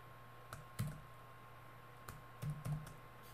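A computer keyboard is tapped a handful of times in sparse, quiet keystrokes with short pauses between them, against a faint hum in an otherwise still room.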